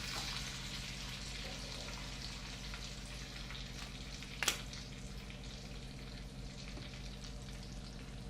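Fresh curry leaves hiss and sizzle in hot oil for a tadka, a steady frying crackle that continues throughout, quiet and close, with a single sharp clink of stirring midway.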